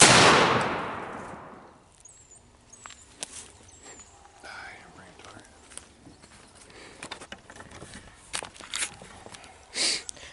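A shotgun fitted with a Carlson Longbeard XR choke fires a single loud blast aimed at a target 40 yards away, the report fading quickly into quiet outdoor rustling, footsteps and soft voices.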